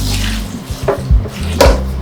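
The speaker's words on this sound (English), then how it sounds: "A little water." Water splashes and trickles as it is poured, with a couple of soft knocks from a container, close by and fairly loud.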